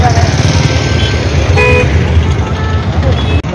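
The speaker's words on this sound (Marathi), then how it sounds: "पुसद नागपूर महामार्गावर काही किलोमीटर पर्यंत वाहनांच्या रांगा लागलेल्या दिसून आलेल्या आहेत" Heavy traffic backed up for kilometres on the Pusad-Nagpur highway, a loud constant roar of engines with brief horn toots, voices talking over it.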